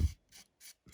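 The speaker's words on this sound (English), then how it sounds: "I can go with my finger and just start rubbing this liquid mask off" A fingertip rubs liquid mask off a painted studio-scale Star Wars Dornian Cruiser model in four short, dry scrubbing strokes, close and soft, with silent gaps between them.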